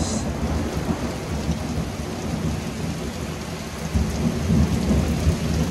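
Heavy rain pours during a violent tornado-producing thunderstorm while deep thunder rumbles close and loud, swelling again near the end.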